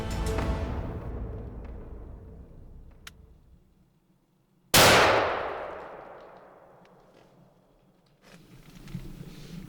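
A single loud rifle shot cracks out at a black bear during a Saskatchewan hunt, a sharp report followed by a long echo rolling across open country that fades over several seconds.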